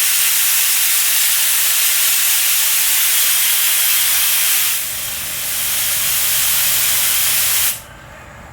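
A paint spray gun gives a loud, steady hiss of released air, running continuously, dipping briefly midway, then cutting off abruptly near the end, leaving a quieter background.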